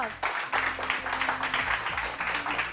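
A studio audience on a Pakistani morning show breaks into brief, bursting applause, faint and in uneven waves over a low hum.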